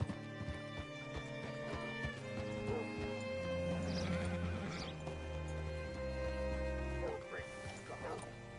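Horse neighing and clip-clopping hooves in a western video game, loud and close, with a whinny rising over a bed of ambient music and rumbling sound, voices speaking throughout.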